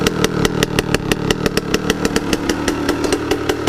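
A KTM 150 SX two-stroke dirt bike with a big aftermarket exhaust pipe revs steadily, its rapid pulsing crackle loud and close, with no voices.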